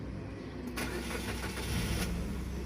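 A 2013 Suzuki Ertiga GX with manual transmission, 144,000 km on it, starts up: a brief starter crank followed by the engine catching and settling into a steady idle, heard fairly close.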